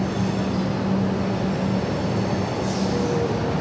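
A suburban train pulls into Southern Cross Station in Melbourne, its steady low rumble filling the platform, with a brief high brake squeal toward the end.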